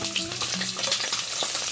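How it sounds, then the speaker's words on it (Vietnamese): Potatoes fry in a pan of hot oil while vegetables are prepared for a stew, giving a steady, close, crackling sizzle with a few stirring scrapes throughout. "Dầu nóng thì mình cho vào khoai tây trước nè."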